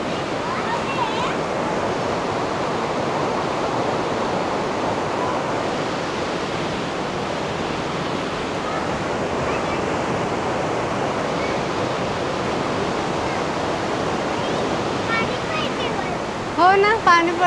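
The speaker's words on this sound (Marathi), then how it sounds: "हो ना, पाणी पडते वरून इथून" A waterfall in Austria pours down in a constant broadband roar, loud and close, unchanging for the whole stretch, with a brief voice near the end.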